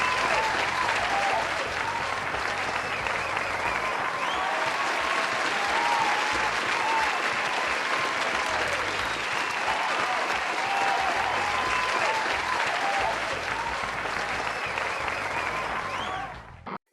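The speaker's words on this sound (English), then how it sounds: "Stop clapping. Stop clapping." Sustained audience applause and clapping from a crowd, dense and steady for about sixteen seconds before cutting off abruptly, with no voices standing out.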